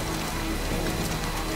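Steady rain falls in the video game Death Stranding, a dense, even hiss of drops on surfaces that runs unbroken and fairly close for the whole moment, with no talking over it.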